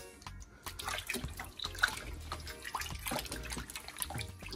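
Tap water running and splashing over beef ribs being washed in a bowl in a home kitchen, close and steady with sloshing and drips, no talk.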